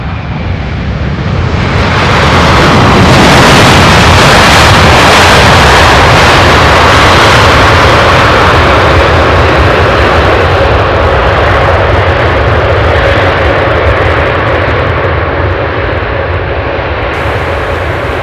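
A heavy UPS cargo jet lands at Louisville SDF airport at night, its engine roar swelling loud and close after a quiet start, then holding a broad, steady rumble with a sustained whine that slowly eases toward the end.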